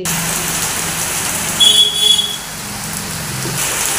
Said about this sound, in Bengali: বাইরে প্রচুর বৃষ্টি নেমে গেছে বাবা, ঝপঝপ করে বৃষ্টি পড়ছে